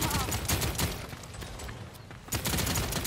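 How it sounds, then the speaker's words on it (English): Gunfire in the video game Paladins: a rapid stream of snappy shots in quick bursts, a short lull, then another flurry, with faint voices in the mix. "Shooting."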